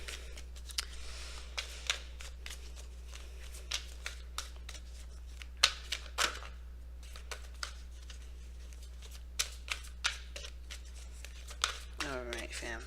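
Tarot cards are shuffled and laid down in a series of soft, crisp snaps and flicks, with a steady low hum underneath and no talking.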